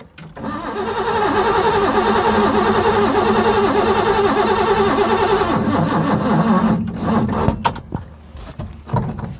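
A barn-find Ford Capri race car, left sitting for 20 years, cranks loudly and steadily on its starter motor for several seconds without catching, then stops, followed by a few clicks and clunks.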